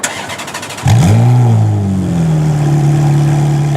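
A Ferrari F430 Challenge race car engine cranks briefly, then fires and roars up loudly before settling into a steady, rumbling idle close by.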